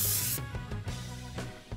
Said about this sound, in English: Spray paint two lipstick boxes and the box with an eraser black.